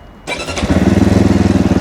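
A Zongshen Cyclone RX3 fuel-injected motorcycle cranks briefly, catches and settles at once into a loud, steady, rapidly pulsing idle, recorded up close with no talking.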